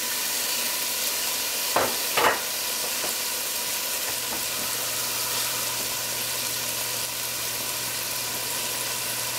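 Chopped tomato hitting a hot pan, with a couple of sharp clatters as it goes in, then a constant sizzle and a faint low hum underneath.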